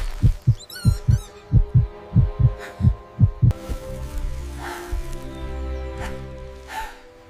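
A steady heartbeat thumps in a strong, regular rhythm of paired beats for about three seconds, then sinks under a low hum with faint high squeaks and a soft sustained drone.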